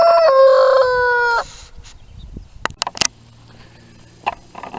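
A rooster gives one loud, clear crow at the start. Scattered softer clucks and short calls from backyard chickens follow in quieter surroundings.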